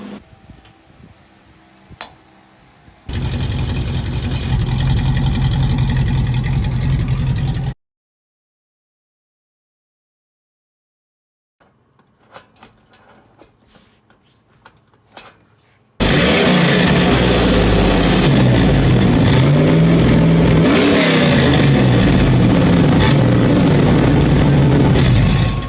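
A V8-swapped Chevy S-10 with a homemade exhaust cutout roars loud and close in two long sustained stretches, separated by a near-silent gap and a few faint mechanical rattles.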